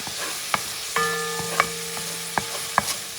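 A spoon stirring a sofrito base with turmeric in a pot over a steady low sizzle, with a few distinct knocks of the utensil against the pot at uneven intervals.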